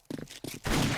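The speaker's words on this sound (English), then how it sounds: "just overall such a nice Magnum firing sound" A .44 Magnum revolver fires in the zombie survival game 7 Days To Die: short punchy reports in quick succession, followed by a louder, broad burst of noise that sustains to the end.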